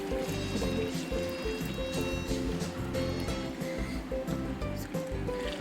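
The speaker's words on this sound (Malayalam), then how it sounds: "അപ്പോൾ ഇനി ലാസ്റ്റ് നമുക്ക് തേങ്ങാപ്പാൽ ഒഴിക്കാം." Coconut milk pours into a simmering Kerala-style duck curry with a continuous liquid trickle and bubbling, close and moderately loud.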